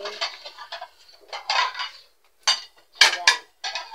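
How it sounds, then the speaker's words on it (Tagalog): Plates and dishes being set down on a small table clatter and clink in a series of bright, close knocks in uneven bursts with short pauses between them. No one talks. "ipatong ang plato namin sa lamesa na maliit"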